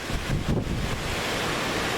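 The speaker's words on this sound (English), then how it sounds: "it's windy beyond windy." Strong desert wind in Nevada roars steadily across the microphone, a loud continuous rushing buffet with no other sounds.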